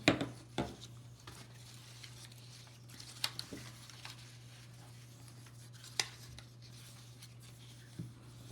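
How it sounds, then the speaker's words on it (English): Paper pages are folded and creased by hand for a handmade book, giving soft scattered rubs and sharp taps at close range in a quiet room with a low steady hum. "So I'm just folding all those over and creasing it."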